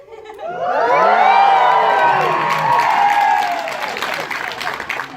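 A crowd erupts in loud cheering and high-pitched shouts that swell, hold, then slowly taper off, with some clapping underneath.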